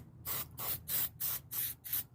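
Aerosol carburetor cleaner sprays onto a Mustang's carburetor in six short, evenly spaced hissing bursts, close and crisp, with brief quiet gaps between them.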